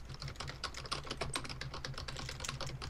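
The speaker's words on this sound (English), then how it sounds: "From the sounds of the massive typing," Rapid, heavy typing on a computer keyboard during an online Town of Salem game, a dense continuous clatter of keystrokes, close and steady with no voices.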